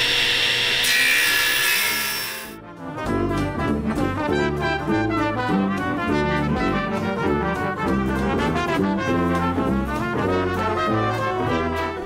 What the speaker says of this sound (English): this first cut I'm gonna do is gonna be cutting lengthwise down the barrel to give it the nice slim shape